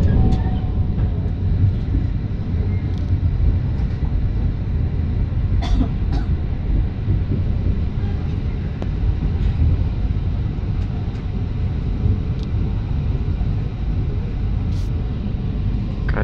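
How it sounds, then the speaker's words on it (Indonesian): A Pasundan economy passenger train rolls into Cibatu station with a steady, heavy low rumble of wheels and carriages. It holds loud and continuous throughout, with a few faint squeals and clanks over the drone and no talking. "Kereta api Pasundan masuk stasiun Cibatu."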